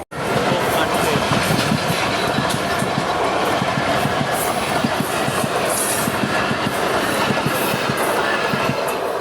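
A train rolls close by over a coin laid on the rails, a loud, steady rumble and rhythmic clatter of wheels that fills the whole stretch without a break.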